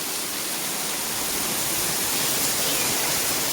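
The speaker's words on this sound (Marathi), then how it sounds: "कवरा बाहेर पाणी पडतं" Heavy rain pours down outside in a dense, unbroken wash of hissing noise, loud and steady from start to finish with no voices over it.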